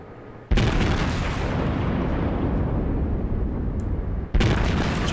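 Heavy naval gunfire from the Tirpitz battleship in World of Warships, two sharp loud booms roughly four seconds apart, each trailing into a sustained rumbling roar of shell flight and echo.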